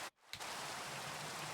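Rain in the video game Exosphere: a steady, dense hiss of falling rain that fills the clip continuously after a brief dip at the start, with no voices.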